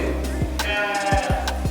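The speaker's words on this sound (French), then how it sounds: "L'entendant bêler tout au fond de la grotte" Sheep bleating deep inside a cave, several wavering calls in succession with a reverberant, slightly distant quality over a steady low background.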